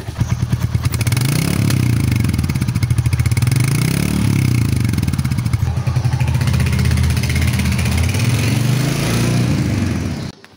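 A Royal Enfield Hunter 350 motorcycle engine idles and revs nearby, a loud, steady single-cylinder thump with rising and falling throttle blips before cutting off at the end.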